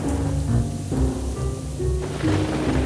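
Storm effect for a cartoon scene, with rumbling thunder and rain under steady music tones, continuous and fairly loud for about three seconds.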